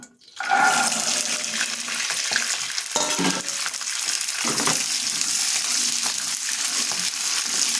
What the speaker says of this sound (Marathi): तेल आपलं थोडं गरम झाल्यानंतर आपण यामध्ये वाटाणे ॲड करून घ्यायचे.